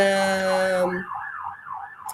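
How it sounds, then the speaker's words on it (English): An ambulance siren wails in a rising and falling sweep after a steady electronic tone cuts out, fairly loud and continuous with no talking over it. "excuse the noise of the ambulance"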